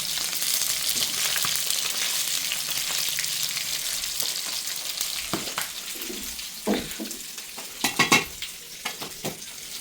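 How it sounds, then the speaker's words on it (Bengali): Meat seasoned with turmeric and coriander fries in its own fat, giving a steady hiss and sizzle with sharp pops and crackles that grow more frequent toward the end, without talk. "মাংসের তেল দিয়ে কিন্তু এই মাংসটা ভাজা হয়ে যায়"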